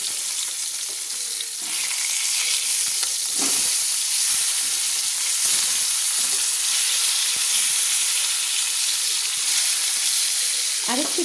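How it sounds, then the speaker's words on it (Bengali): Pieces of rohu fish frying in hot oil as they are turned over to cook the other side, a loud, dense, continuous sizzle close up with a few soft scraping knocks from the turning. "এবার আমি আরেক পিঠ ভাজার জন্য কিন্তু উল্টে দিচ্ছি।"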